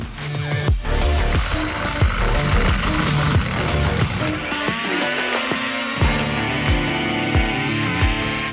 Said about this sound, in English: let's try the Dremel tool.